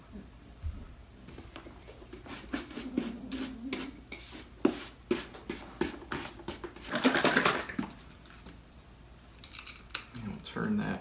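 Leather shoes being dusted off with a brush, a series of soft close rubbing and swishing strokes in irregular bursts, fairly quiet.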